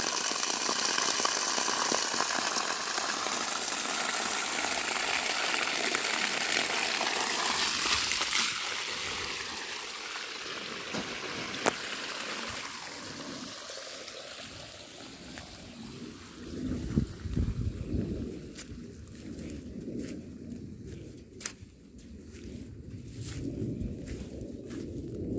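Water gushes continuously from a borewell pump pipe driven by an 800W solar-powered BLDC motor, a broad roaring hiss close by, thinning later as scattered clicks and knocks join in.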